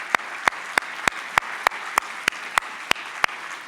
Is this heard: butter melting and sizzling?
no